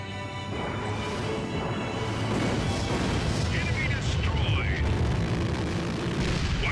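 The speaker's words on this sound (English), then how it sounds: "They're firing anti-aircraft missiles above the base" Anti-aircraft missiles fire above a base in the Ace Combat: Assault Horizon Legacy game, a dense, continuous roar of booms and rumbling blasts that swells slightly and stays loud throughout, with voices underneath.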